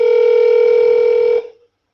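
Phone ringtone played through a Bluetooth speaker: one loud, steady electronic tone that holds for about a second and a half, then cuts off abruptly into silence.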